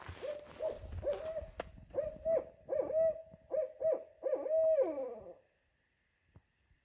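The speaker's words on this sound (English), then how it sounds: "Maybe it was an owl." Series of about eight low, wavering owl hoots in close succession at a wooded spot on the Appalachian Trail, fairly near and clear, stopping abruptly before a short quiet tail.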